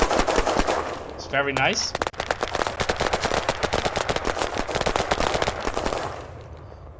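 Rapid bursts of semi-auto rifle gunfire from the video game Battlerush 2 crack out in dense, closely spaced volleys for several seconds, with a brief pause and a short spoken remark early on.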